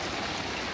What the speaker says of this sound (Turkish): 10 dakikadan beri böyle şiddetli bir yağmur yağıyor hele.